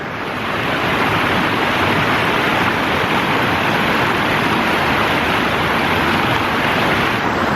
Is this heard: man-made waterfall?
yes